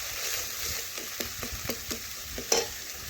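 Spices with red chili powder being stir-fried for a chicken curry, a low continuous sizzle under a series of spatula scrapes and taps against the pan at an uneven pace, close and moderately quiet.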